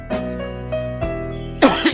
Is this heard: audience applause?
no